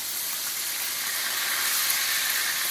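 Steak frying in butter in a pan gives off a steady, dense, close sizzle that continues without break and without talk.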